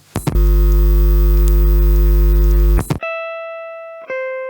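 Electric guitar played through a Walrus Luminary octave pedal and a Fathom reverb on a hall setting, a sustained thick chord ringing with stacked octave tones, then two clean bright sustained notes with long reverb tails, loud and alone.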